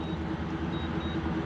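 An orange car driving by, a steady close engine and road rumble that holds evenly through a brief moment without any voices.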